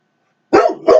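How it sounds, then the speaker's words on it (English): A house dog barks twice in quick succession, close and loud, after a moment of silence. "They're used to him barking."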